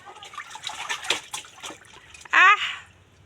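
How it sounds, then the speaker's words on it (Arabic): Water splashes and drips around a child in a bath, with small close trickles and one louder splash, heard among soft voices talking nearby. "مين عم بيزت المي؟"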